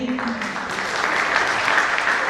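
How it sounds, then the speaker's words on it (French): A theatre audience claps together in a sustained burst of applause, loud and close, building slightly toward the end. "Est-ce qu'on peut les applaudir?"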